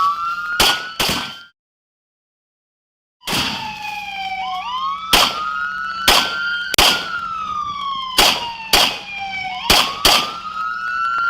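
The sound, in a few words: gunshots during police exchange of gunfire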